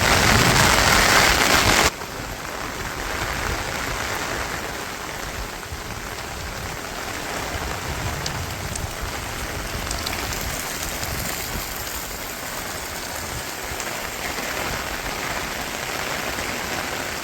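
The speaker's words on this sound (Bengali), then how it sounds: "ভালোই উপভোগ করলাম বৃষ্টি" Steady rain pours onto a village rooftop in a dense, even hiss that carries on unbroken, louder during the first two seconds and then settling into a constant wash with no voices.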